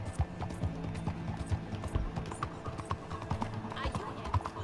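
Video game horse hooves clip-clopping in a steady, busy rhythm with sharp taps, heard under an excited voice talking over the action.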